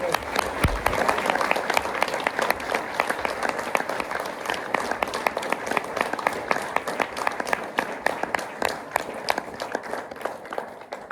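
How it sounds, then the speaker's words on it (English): Enthusiastic audience applause at a school event with young pupils, a lively mix of many hands clapping close and far, continuing steadily for over ten seconds with a faint murmur of voices in the room. "Should we give them all a fantastic round of applause?"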